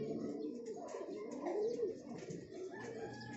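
Domestic pigeons, young racing birds kept in a loft, coo in low, murmuring calls that overlap continuously at close range, with a few faint chirps and no talk.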